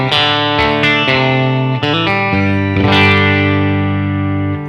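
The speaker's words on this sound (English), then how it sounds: "now we have just the guitar into the Fender Deluxe, into the Universal Audio aux, with the aux providing the reverb post" An electric guitar played through a Fender Deluxe amp with added reverb, loud and close, rings out sustained chords and notes that change every half second or so, each decaying into a wash of reverb.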